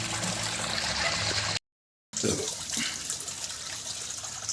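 Steady running water splashes and trickles nearby as a concrete tilapia pond drains, a continuous broadband rush with a brief cut of silence partway through.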